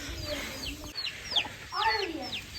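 Several chickens cluck and squawk in short bursts at close range, with a denser flurry of calls near the end.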